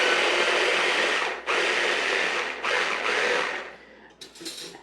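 A small, not very powerful food processor whirs loudly as it blends pistachio pesto, running in steady bursts with two brief pauses before slowing and sputtering near the end, alone with no talk.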